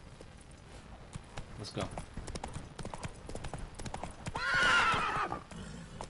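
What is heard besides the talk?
horse galloping and neighing in the video game The Witcher 3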